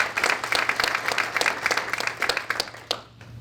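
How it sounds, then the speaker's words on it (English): Crowd at an education agency's state-of-the-agency address claps for students, a dense, even patter of many hands lasting several seconds before tapering off sharply at the end. "Let's have a round of applause for all these amazing students"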